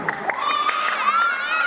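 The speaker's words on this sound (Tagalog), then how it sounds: "Palakpakan natin yung nasa gitna." Birthday party crowd breaking into applause and cheering, a dense close wash of clapping and excited voices with children shouting, steady throughout.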